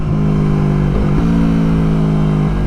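A Yamaha MT-03 stunt bike engine holds a steady loud mid-pitched drone that dips briefly, then climbs back and carries on close-up, with no talk over it.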